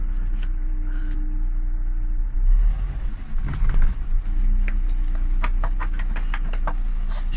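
A bus engine starts with a low rumbling surge and then settles into a steady idle, with ticking and clicking from the cab and a few brief knocks over the continuous low drone.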